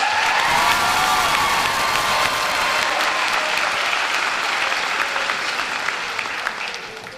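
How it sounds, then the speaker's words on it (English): A large crowd at a high school graduation claps loudly and continuously, a dense wash of applause that holds steady and then begins to taper off. "give her a round of applause"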